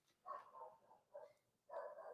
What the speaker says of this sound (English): Puppy dogs are barking